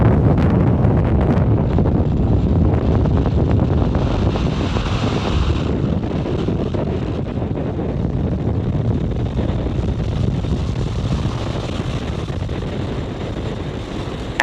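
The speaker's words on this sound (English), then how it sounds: "Falcon 9 has successfully cleared the tower and lifted off from Space Launch Complex 4 East at Vandenberg Space Force Base in California" A SpaceX Falcon 9 rocket lifts off from Space Launch Complex 4 East at Vandenberg Space Force Base, California, as a loud, continuous deep rumble and roar, buffeted by wind across the microphone and fading slowly over the span.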